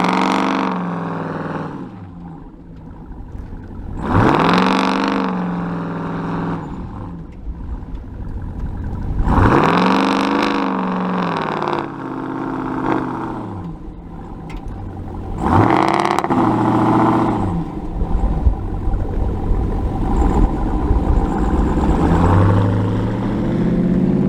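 Pickup truck engines, a TRX and a Raptor, rev hard in sand for burnouts: three or four loud, surging roars swell and fall in repeated bursts, each rising to a growling peak with a steady rumble between them.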